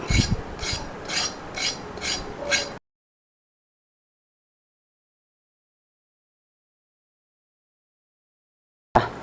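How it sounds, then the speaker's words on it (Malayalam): Moringa drumstick pods scraped to remove their skin while preparing avial, a run of about six quick rhythmic rasping strokes, close and fairly loud, then silence. "മുരിങ്ങയൊക്കെ നമുക്ക് ഒന്ന് കട്ട് ചെയ്യാം ഇതുപോലെ ഒന്ന് തൊലിയൊക്കെ ഒന്ന് മാറ്റാം നമുക്ക്"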